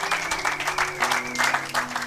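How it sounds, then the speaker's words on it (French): A church congregation clapping in rhythmic bursts, loud and close, with a sustained tone and voices faintly underneath. "Acclamez pour la gloire de notre Dieu, de notre Seigneur."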